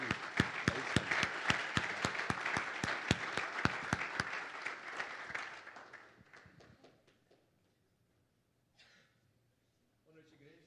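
A church congregation claps in unison, a brisk rhythmic beat of about twenty claps that fades out after five seconds into near silence with faint murmurs.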